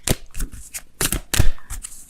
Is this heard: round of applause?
no